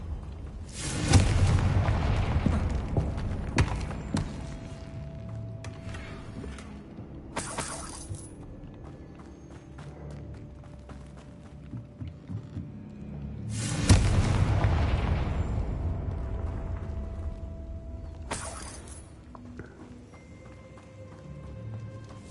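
A Confringo blasting spell explodes in Hogwarts Legacy, two heavy booming blasts about twelve seconds apart, each with a sharp crack and long rumbling decay, over a quiet ambient game background.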